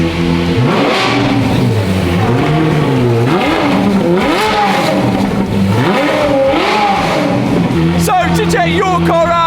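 A Ferrari engine revs repeatedly while warming up, pitch climbing and falling in loud surges, with a sharper higher whine near the end.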